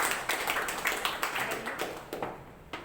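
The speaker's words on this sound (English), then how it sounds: "Let's give a huge round of applause to" A small audience at a Toastmasters club meeting claps in quick, scattered bursts for a few seconds, fairly close and fading toward the end.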